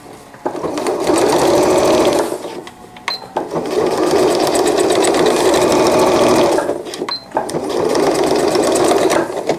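A sewing machine stitching in short bursts to tack elastic on a cloth diaper cover, loud and close, with three runs broken by brief pauses.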